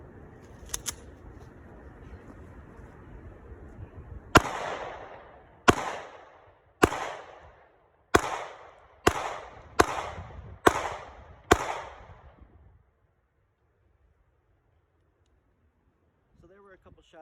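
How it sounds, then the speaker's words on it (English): Eight sharp gunshots from an FN 503 pistol, loud and close with a short echoing tail after each, fired at irregular intervals of about a second after a stretch of background noise, followed by quiet. "So there were a couple shots with the FN 503."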